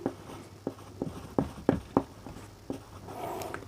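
Pen or marker writing out a formula for the speed of a synchronous motor, a series of short, sharp scratchy strokes in quick bursts, close up and fairly clear with no talking.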